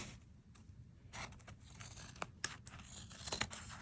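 Older fabric scissors trimming the edges of a layered, stuck-together fabric postcard, giving a few close, quiet snips and crisp rustles at irregular intervals.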